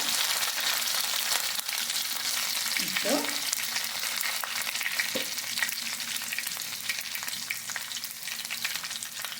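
Mustard seeds and coconut sizzle steadily in hot oil in a pan while bitter gourd thoran is cooked, with a few brief stirring scrapes and one short spoken word over the continuous frying hiss.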